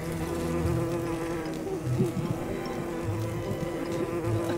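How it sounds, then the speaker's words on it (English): A swarm of bees, including killer bees, buzzes in the Don't Starve Together game, a continuous dense droning hum that stays steady and close, with no pauses. "Oh no, there's a bee! There's a lot of bees!"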